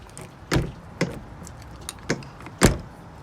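The key-operated habitation door lock on a T-Line 590 motorhome is turned and the door opened, giving a handful of close, distinct clicks and clunks spaced about half a second apart.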